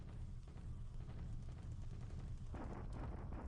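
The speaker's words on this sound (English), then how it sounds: "This is the counter battery fire, which didn't do much." Counter-battery artillery fire in a World War II Pacific war game set around Manila in February 1942, heard as a dense, continuous rumbling barrage of overlapping booms that stays loud and steady throughout.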